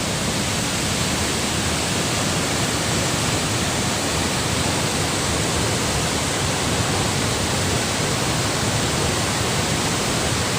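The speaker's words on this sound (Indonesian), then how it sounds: "ternyata Curug Omas ini memang deras sekali ya" Curug Omas waterfall pouring in heavy, strong flow, a loud, steady, unbroken roar of rushing water heard up close with no voices.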